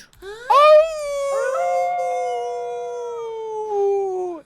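A person imitates a wolf howl: one long, wavering howl that rises sharply, then holds and slowly falls, close and fairly loud with no other sounds.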